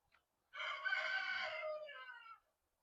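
A rooster crows once, a single drawn-out cock-a-doodle-doo of about two seconds, clear but somewhat distant and alone.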